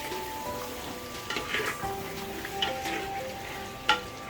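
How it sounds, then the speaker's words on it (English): Mutton with hing sizzles over a high flame, a steady close frying hiss broken by occasional scraping stirs and one sharper clink near the end. "Give it a nice mix and keep stirring it on medium to high flame"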